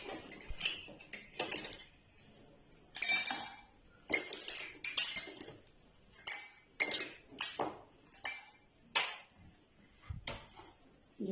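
Ice cubes are dropped into two drinking glasses in a home kitchen, making a series of sharp, close clinks and rattles in irregular bursts with short pauses between them.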